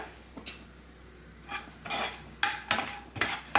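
Fried copra is scooped out of a pan with a metal ladle, giving a series of close scraping clinks and light rattles that grow busier toward the end, with no talking.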